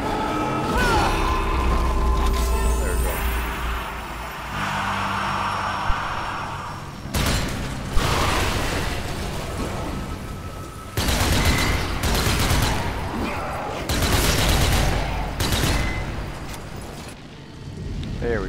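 Gunfire in the video game Zombie Army, dense volleys and bursts of shots layered over a loud, roaring battle din that comes in waves for the whole stretch.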